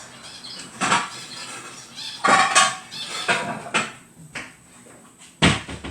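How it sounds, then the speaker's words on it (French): A baking dish being buttered and handled in a home kitchen: a few sharp clinks and scrapes of dish and utensil at irregular moments, close and fairly loud, with quieter rustling between, and no talk. "Alors je vais prendre un plat. Alors faut venir le beurrer."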